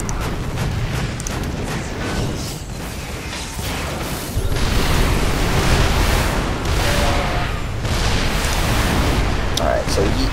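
Siege tank cannon fire and explosions in a StarCraft 2 Terran-versus-Terran match, a dense, continuous wash of booming blasts and mechanical battle noise, loud and steady, swelling heavier midway through.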